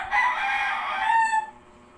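A rooster crows once loudly and close by, a drawn-out cock-a-doodle-doo that rises and then trails off into quiet.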